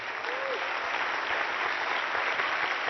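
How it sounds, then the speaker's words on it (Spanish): Steady audience applause fills a hall at an education, technology and leadership talk, dense and continuous for the whole stretch with a brief whistle near the start. "Fuerte el aplauso para ellos, por favor."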